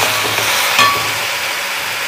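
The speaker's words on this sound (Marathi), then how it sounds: "हा कांदा आपल्याला अतिशय खरपूस असा भाजायचा आहे, अतिशय खरपूस" Onion fries in a pan until crisp for a baby potato bhaji, giving a steady, fairly loud sizzling hiss broken by one brief metallic clink.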